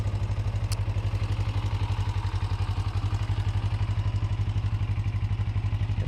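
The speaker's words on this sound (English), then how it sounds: "pull this choke out and then kind of play with it and let the bike idle kind of high" A 2006 Kawasaki Ninja 250 motorcycle idles high on choke, its engine pulsing in a steady, rapid low rhythm close by with no voices.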